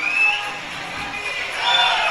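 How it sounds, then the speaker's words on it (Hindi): A crowd at a political rally in Dhar, Madhya Pradesh claps and cheers in a steady, dense roar that swells at the start and again near the end. "तो ताली बजाओ"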